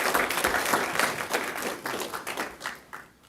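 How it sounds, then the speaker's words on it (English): Audience applause at a city council meeting, a steady burst of indoor clapping that holds for a few seconds and then tapers off toward the end. "Please give Captain Watts and the team a big round of applause."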